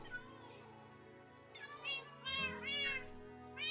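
Cats meowing in the Minecraft video game, a quick series of high, rising and falling meows bunched in the second half over a faint steady game backdrop.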